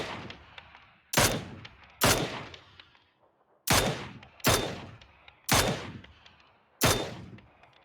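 Loud close gunshots fire in a video game, six sharp single blasts in uneven spacing, each trailing off in a short echo, with no talk.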